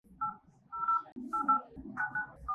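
Phone number being dialed on a mobile, a series of distinct keypad tones in an irregular rhythm, close and fairly quiet, with faint background murmur.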